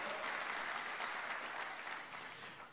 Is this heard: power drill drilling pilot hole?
no